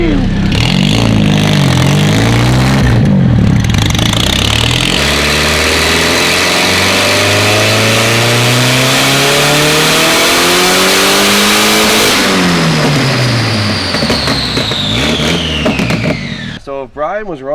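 A turbocharged project car with no wastegate revs hard on a dyno, the loud engine note climbing steadily through a long pull, then dropping away at the end.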